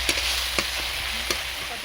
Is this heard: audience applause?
no